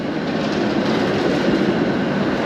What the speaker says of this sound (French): Ah bah c'est le tram. Un vieux tram à l'ancienne.